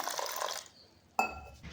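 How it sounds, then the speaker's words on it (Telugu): Water splashes briefly into a bowl, then after a short quiet gap a second pour starts with a clinking knock, close and fairly soft. "వాటర్ వేసుకొని"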